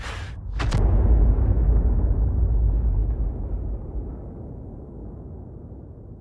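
An artillery gun fires in a tank video game: one sharp, loud blast followed by a long, deep rumble that slowly fades over several seconds, with no voices.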